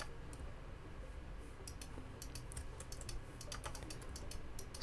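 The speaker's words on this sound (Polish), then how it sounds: "No klikam jak porąbana." Quick, light clicking at close range, fired in uneven clusters while playing Planet Crafter on a computer, over a low steady hum with no speech.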